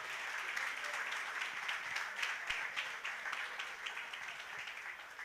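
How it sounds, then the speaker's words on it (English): Audience applause at a fellowship program launch event, steady dense clapping from a crowd, moderately distant and sustained throughout with a few sharper individual claps standing out. "I thought you would clap for Nigeria."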